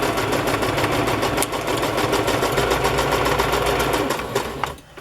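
A sewing machine runs a straight stitch while sewing pockets for a vintage-style journal, a close, steady mechanical whir with a fast even needle rhythm that continues without pause and winds down just before the end.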